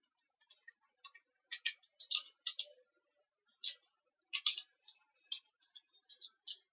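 Quick, light keystrokes on a computer keyboard come in short irregular bursts with brief pauses, soft and close in an otherwise quiet room.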